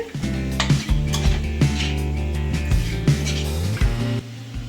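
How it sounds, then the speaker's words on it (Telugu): Mughlai chicken curry is stirred in a pot after coriander powder and chilli powder are added, making repeated metallic clinks and scrapes over a low sizzle and a steady tonal background hum. "ఇప్పుడు ఇందులోకి ఒక స్పూన్ ధనియాల పొడి ఒక హాఫ్ స్పూన్ మిరప్పొడి ఇదంతా బాగా కలుపుకోవాలి"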